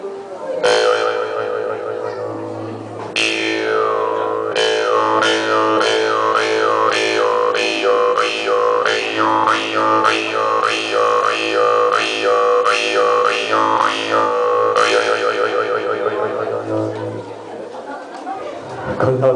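A large, thick kokin mouth harp plays a low droning twang, then a long run of rhythmic, wah-like plucked pulses with shifting overtones over a steady low hum, loud and close.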